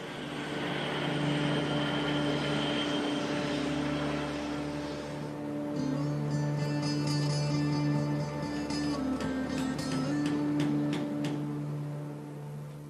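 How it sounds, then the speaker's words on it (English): Six engines of an Antonov An-225 Mriya throttle up together, giving a steady, loud, sustained jet roar with a layered whine rising over it, and no voices. "an extra helping hand is required to throttle up all 6 engines at once"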